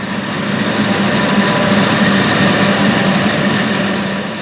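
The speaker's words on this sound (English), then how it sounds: "this video will feature a John Deere 8630 four-wheel drive tractor with a Degelman blade pushing the silage" A John Deere 8630 four-wheel drive tractor engine runs steadily throughout, a continuous loud drone with a mid-range hum, pushing corn silage with a Degelman blade.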